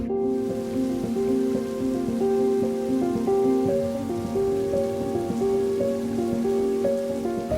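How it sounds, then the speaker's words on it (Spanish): Rain falls steadily near the Gulf of Mexico coast, a continuous dense patter under sustained tonal music, with no talk. "Como está a llover"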